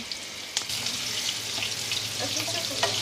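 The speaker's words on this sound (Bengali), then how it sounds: "তো এটার মধ্যে কিছুটা তেল দিলাম, পেঁয়াজ কাঁচামরিচ দিলাম," Onion and green chilies frying in hot oil in a pan, a close, steady hiss of sizzling with a couple of brief utensil knocks as they are stirred, no one speaking.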